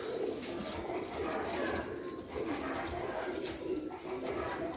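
Pigeons kept by a fancier in Jhelum coo steadily and softly, with a dense, continuous murmur of calls all through, close by and without talk over them.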